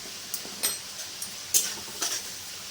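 Onions fry with turmeric in a pan under a soft, low sizzle, punctuated by a handful of light clinks and scrapes from a spoon against the metal, quiet and close with no talk.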